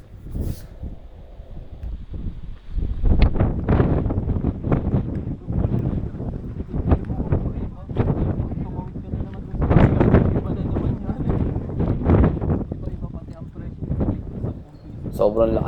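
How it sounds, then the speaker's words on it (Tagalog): Strong wind gusts buffet the microphone on a green hilltop during stormy weather, loud rumbling bursts that rise and fall, with a person talking under the noise. "Sobrang lakas ng hangin dito guys."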